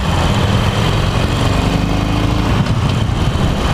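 The engine of a 2018 Harley-Davidson Roadster motorcycle about to join the Autobahn runs loud and close, a continuous throbbing rumble with wind buffeting and no speech.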